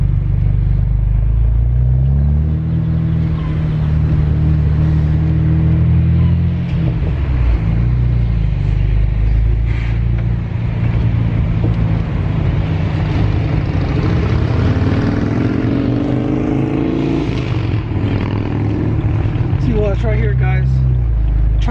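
A BMW 135i accelerates with its turbos spooling up, a loud continuous engine rumble and drone heard from inside the car, with a person talking over it throughout.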